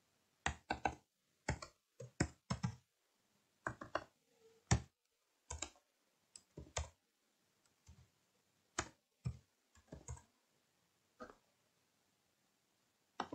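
Computer keyboard keys tapped in short irregular bursts of quiet clicks separated by pauses, close and faint in an otherwise silent room, as a website address is entered.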